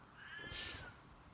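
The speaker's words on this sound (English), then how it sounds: "Is that a cat? Yes, it is." A single cat's meow, close and fairly soft, rising and falling over about a second against a quiet room background.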